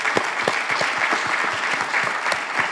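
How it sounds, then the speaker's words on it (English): A live studio audience for a stock market talk show gives a loud, dense round of applause, with individual claps standing out over a continuous patter throughout. "Give yourselves a round of applause"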